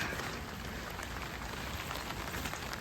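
Heavy rain falls outdoors during an okra harvest, a dense, steady hiss of drops on leaves and ground with no let-up.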